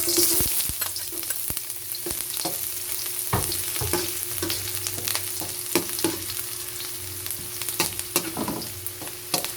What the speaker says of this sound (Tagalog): mainit na ang ating oil. Kaya ilagay na natin ang ating sibuyas.